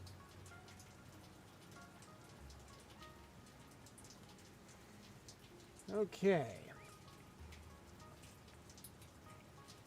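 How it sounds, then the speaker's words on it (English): Steady rain patters on a surface throughout, with a brief louder burst of voice or sound partway through and a short spoken word. "We got the sound of the rain in the background"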